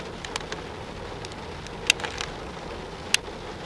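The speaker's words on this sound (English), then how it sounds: "We're at this rest stop and it's raining." Steady, soft rain patters in the background at a highway rest stop, with a couple of sharp ticks cutting through the hiss.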